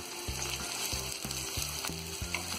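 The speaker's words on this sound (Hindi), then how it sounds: "प्याज को हम यहाँ हल्का गुलाबी होने तक फ्राई करेंगे।" Onions sizzling in a pan while cooking aloo methi, a steady close frying hiss with repeated low scraping stirs every half second or so.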